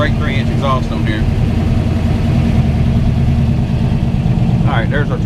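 A deep, steady truck engine rumble through a straight 3-inch exhaust idles throughout, with a person speaking over it briefly at the start and again near the end.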